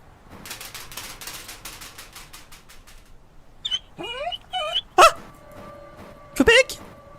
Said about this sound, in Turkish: köpek köpekten bir acı acı çekme sesi geldi